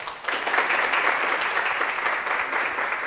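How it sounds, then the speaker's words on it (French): An audience applauds at a live event with a steady, close wash of many hands clapping that stays even throughout. "que nous pouvons applaudir aussi."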